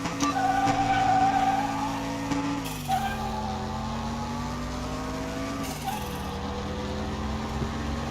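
Race car in Car Mechanic Simulator 21 with a loud sustained engine drone and tire squeal, pitch dipping at gear shifts and braking, held steady throughout.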